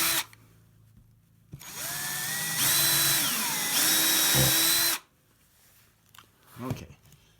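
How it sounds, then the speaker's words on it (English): A power drill runs at high torque and speed to bore a hole, with a close, rising and falling motor whine lasting a few seconds between quiet pauses, followed by a few faint knocks. "I'm going to start by drilling a hole on either side of this"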